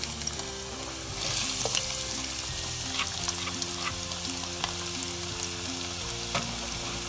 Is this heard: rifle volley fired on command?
no